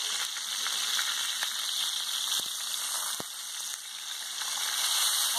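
Steaks sizzle steadily in a hot pan with sprigs of thyme and garlic, a bright, even crackle of fat rendering close up with faint occasional clinks and no talk.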